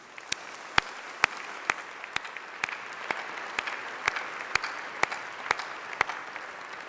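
Audience applause at a university graduation ceremony, a soft continuous patter of many hands with a few sharper, louder claps standing out at a steady pace, heard from a distance.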